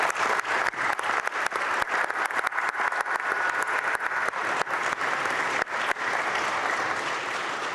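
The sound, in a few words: applause in the Texas legislature chamber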